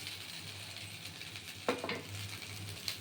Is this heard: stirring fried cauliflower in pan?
yes